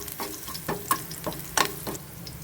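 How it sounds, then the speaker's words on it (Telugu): Crushed garlic goes into hot oil with chana dal and is stirred in a pan, a steady sizzle with a few scraping strokes from the spoon, close and clear. "ఇప్పుడు దంపిన వెల్లుల్లి వేసేసుకొని కలిపేసుకుందాం ఒకసారి"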